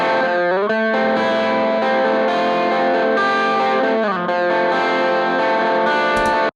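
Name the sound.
electric guitar with high-pass EQ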